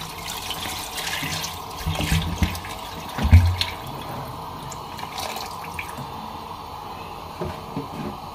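Water poured into a pot of beef trotters for slow-cooked paye, a steady pouring and splashing wash with a brief louder gurgle partway through, close by and without talk.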